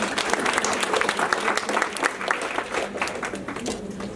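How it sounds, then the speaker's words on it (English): Audience applause for the translators at a bank master class, a full room clapping in a sustained, even burst, fairly loud and close, with no voices over it. "Let's give the translators a round of applause."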